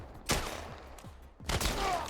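Gunfire in the video game The Last of Us, two sharp shots about a second apart, each with a short booming tail, heard alone over quiet game ambience.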